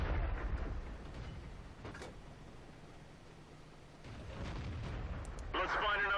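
A tank gun fires in World of Tanks during a tank destroyer campaign mission, a low rumbling boom heard amid steady engine and battle noise, with a sharper burst of mechanical clatter near the end.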